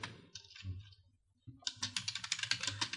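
Keys clatter on a computer keyboard as an entry is typed into accounting software, a short burst, then a pause, then a faster run of close, crisp taps.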